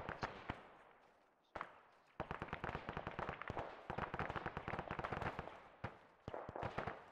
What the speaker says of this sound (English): Shot from the west.